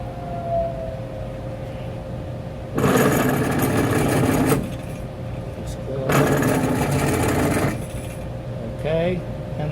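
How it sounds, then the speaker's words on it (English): A drilling machine cuts metal with coolant and chatters, sounding as two loud rough grinding bursts of a couple of seconds each, separated by quieter machine hum with faint whines. "Getting a little chatter, so we definitely want to slow it down."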